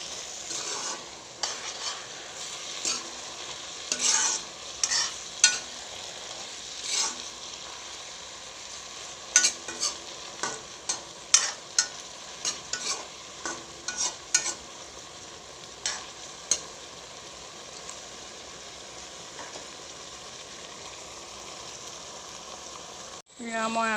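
Taro pitika frying in a covered wok over low heat, stirred repeatedly with scraping clinks of a spatula over a steady sizzle, the strokes coming in irregular bursts.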